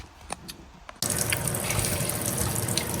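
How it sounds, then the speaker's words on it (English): Running water gushes steadily from a solar-powered off-grid faucet, starting abruptly after a quiet second and continuing loud and even to the end. "Alrighty guys, we got running water."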